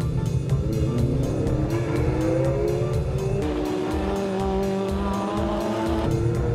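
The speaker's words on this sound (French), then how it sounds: "les deux amis vont s'élancer pour quelques tours sur le fameux circuit de Montlhéry" Vintage race car lapping the Montlhéry circuit during a classic car event, its engine roaring loud and steady with rising and falling revs through gear changes, close and continuous with no talk.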